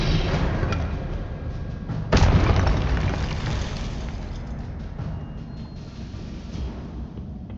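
A Confringo spell explosion in the video game Hogwarts Legacy lands with a sudden sharp boom over a dense rumbling battle ambience, then fades into a low continuous roar.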